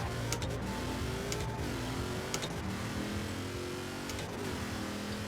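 A car in Forza Horizon 4, set up as a rat rod drag car, roars off the line in a drag race, its engine rising steadily through a few gear changes, loud and alone without talk.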